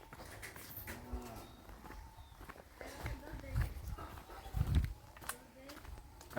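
Cattle in a rural cow shed low and moo at a moderate distance amid shuffling hoof and footstep sounds, while people talk over them.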